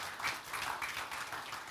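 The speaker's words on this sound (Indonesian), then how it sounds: "Kasih tepuk tangan buat Tuhan Yesus." A church congregation at a Sunday worship service applauding, a dense, steady patter of many hands clapping at moderate distance, heard alone without talk.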